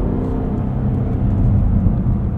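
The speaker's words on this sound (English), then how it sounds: "Let's turn off rev matching. Do some of these downshift blips ourselves." A 2024 Cadillac CT5-V Blackwing's supercharged engine rumbling and whirring steadily during manual downshifts with throttle blips, heard from inside the cabin with no talking.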